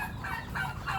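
A brief burst of turkeys gobbling, several warbling calls overlapping closely, loud and near.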